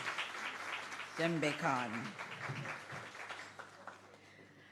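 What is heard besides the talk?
audience applause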